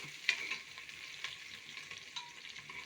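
Eggplant frying in a pan, a soft continuous sizzle with a few sharp crackles and pops near the start, heard alone without talk.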